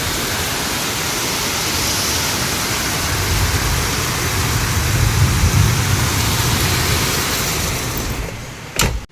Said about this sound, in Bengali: তখন থেকে প্রচুর জোরে বৃষ্টি পড়ছে আজকে।